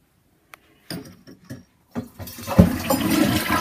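A toilet flushes in the video game Piggy, set in a prison escape level. A few short knocks and thumps come first, then a loud rushing gush of water that keeps running to the end.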